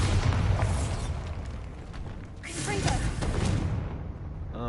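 A Bombarda spell blast in Hogwarts Legacy, fired inside a spider-filled cave: a loud booming burst with crackling debris and a whooshing tail, followed by a second rumbling impact.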